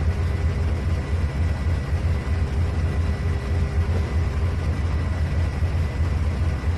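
Several diesel locomotives in a Trainz 2019 railway simulation rumble steadily with a deep, continuous engine drone, holding an even loudness throughout with no voices over it.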